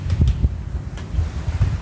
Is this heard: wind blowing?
yes